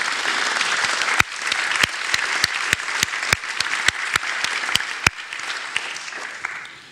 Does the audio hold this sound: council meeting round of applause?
yes